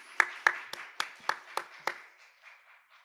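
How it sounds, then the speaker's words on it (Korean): A young adults' church worship congregation clapping in encouragement: a short run of about seven fairly soft, evenly spaced claps that taper away toward the end. "격려의 의미로 함께 박수하도록 하겠습니다."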